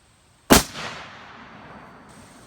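A single sharp rifle shot from a Savage Axis .270, close and loud, with a long echoing decay rolling away outdoors.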